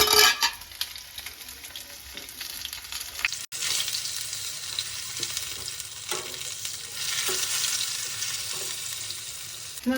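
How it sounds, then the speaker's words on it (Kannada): Tandoori chicken leg pieces fry over a slow flame, a soft continuous sizzle and crackle with occasional stirring or flipping sounds and a brief clatter early on, no voices. "ಇವಾಗ ನಾನು ಮತ್ತೆ ಇದನ್ನ 1 ನಿಮಿಷದವರೆಗೂ ಸ್ಲೋ ಫ್ಲೇಮಲ್ಲೇ ಇಟ್ಕೊಂಡು ಹುರ್ಕೊಳ್ತೀನಿ"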